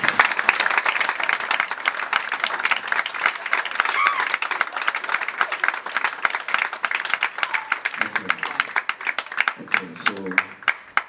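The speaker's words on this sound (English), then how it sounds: "can I get a round of applause for all the men in the house, please?" An audience at a spoken-word performance gives a sustained round of applause, many hands clapping densely and loudly, with a few voices breaking through near the end as the clapping thins.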